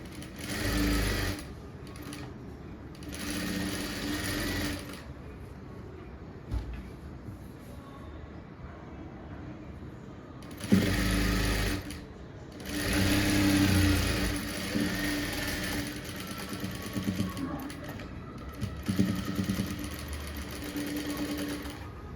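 A sewing machine stitches blouse pieces together in several sustained whirring runs of a few seconds each, separated by pauses, loud and close.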